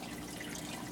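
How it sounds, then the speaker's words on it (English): Water trickling and dripping steadily in a DIY semi-automatic aquarium water change setup for a betta tank, a continuous soft wash of liquid sound with no voices. "Just wait for it to drip down."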